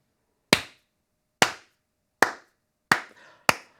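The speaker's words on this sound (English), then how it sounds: "I'm not slow clapping you, Sony" Five slow, deliberate hand claps, close and dry, spaced almost a second apart in silence.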